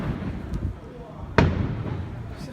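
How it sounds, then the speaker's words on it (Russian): Fireworks salute bursting outdoors, with one sharp loud bang near the middle standing out above a steady rumble of distant crackles, while people chat close by. "заканчивается салют"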